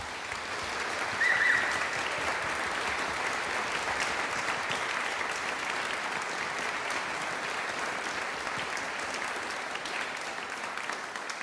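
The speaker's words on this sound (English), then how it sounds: "Please give them a huge round of applause." A large audience at a Melbourne Symphony Orchestra showcase claps steadily for about ten seconds, a dense, even wash of applause that holds its level throughout.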